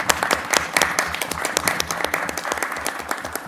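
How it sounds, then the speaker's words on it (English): Audience applause rings out for honored guests, including an education services professional of the year, at a school board of education meeting; steady, dense clapping fills the room from start to finish. "So let's give them a round of applause."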